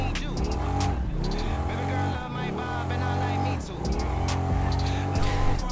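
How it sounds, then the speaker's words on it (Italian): A motorcycle in GTA 5 roars continuously with a loud, rising and falling engine whine, shifting pitch as it slows under braking, with faint tire noise beneath the dense engine tone. "Rallenta, meno male che c'è freni buoni"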